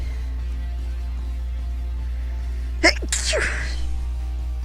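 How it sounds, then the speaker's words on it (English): A single sharp human sneeze bursts out close to the microphone, preceded by a quick intake of breath, over a steady low electrical hum and faint background music. "I gotta sneeze, guys."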